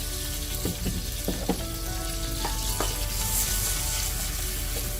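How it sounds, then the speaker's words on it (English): Potatoes fry in a pan with a steady crackling sizzle, punctuated by several light clicks and scrapes of stirring. "So you want to get that frying, and we're looking for crispy"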